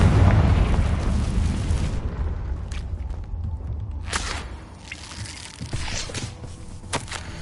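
A Confringo spell in a Harry Potter video game goes off as a loud, rumbling explosion that opens the moment and fades, followed by a few sharp pops and cracks.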